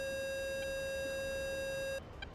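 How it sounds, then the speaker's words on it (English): A digital cockpit warning tone in the combat flight simulator DCS World sounds as one steady, sustained electronic beep for about two seconds, then cuts off abruptly. "Digital beeping simulator as always."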